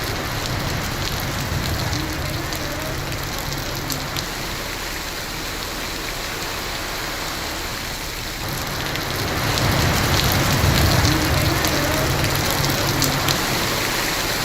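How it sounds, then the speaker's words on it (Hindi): Heavy monsoon rain driven by strong wind pours down in a steady, dense wash that swells louder toward the end, with no clear voices over it. "तेज हवा के साथ ही बारिश हो रही है।"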